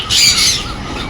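An African lovebird in a Coimbatore pet shop gives one loud, close, harsh squawk lasting about a second, alone without speech.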